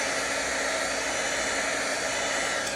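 A heat embossing tool blows hot air steadily over a handmade card, a continuous close, loud whooshing roar with no breaks for the whole stretch.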